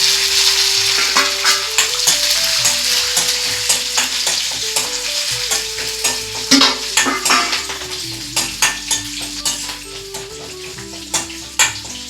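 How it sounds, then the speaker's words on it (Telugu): Green chillies and curry leaves fry with lentils in hot oil, giving a loud, steady crackling sizzle throughout, with frequent spatula scrapes and clinks against the pan. "పచ్చిమిర్చి, కరివేపాకు వేసేసుకుంటున్నాను"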